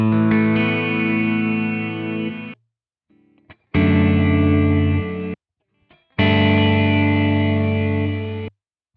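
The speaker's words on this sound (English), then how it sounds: "Then you've got a gated reverb." Three loud distorted guitar chords through the gated reverb setting of a Boss RV-200 pedal, each ringing thick and full before cutting off abruptly into near silence between strikes.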